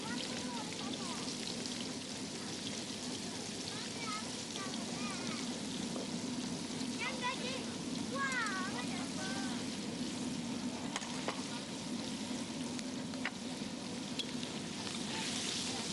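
Butterflied prawns hiss and sizzle in a very hot pan, a steady dense frying crackle throughout, with a voice talking over it.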